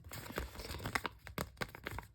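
A plastic packet crinkles and crackles in quick, irregular bursts, close and fairly quiet, with no talking.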